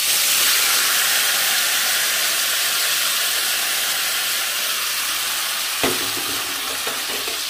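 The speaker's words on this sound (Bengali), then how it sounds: "এইবার আমি কচুরলতিটা ঢেলে দেবো আস্তে করে।" Taro stolons (kochur loti) slid into hot oil already seasoned with black cumin, giving a loud, continuous sizzling hiss close up with a brief clatter near the end and no speech.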